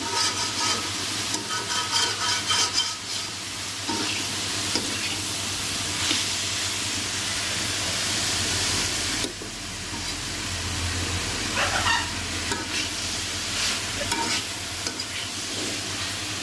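Fried rice is stir-fried in a pan over high heat. A loud, continuous sizzle and hiss carries on with repeated scraping and tossing of the rice, close and busy, with almost no talking.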